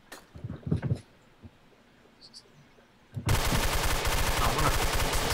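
A gun in Garry's Mod opens up in rapid automatic fire, a loud continuous stream of close shots after a quieter stretch with a few brief thumps and a voice.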